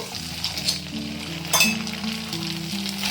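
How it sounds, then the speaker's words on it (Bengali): Semolina luchi bubble in hot oil, with a soft, continuous sizzle under occasional clinks of a utensil against the pan, one brighter metallic scrape standing out midway. "একইভাবে সব লুচিগুলো আমি তেলের মধ্যে ছেড়ে দেব"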